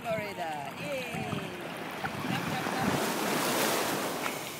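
Atlantic ocean surf on a Florida beach, a steady close wash of waves with wind buffeting the microphone and voices talking over it.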